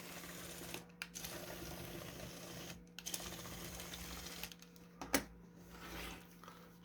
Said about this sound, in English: This motor draws about over 300 milliamps, I think, when it's running.